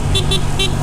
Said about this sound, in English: The horn sounds so funny, man.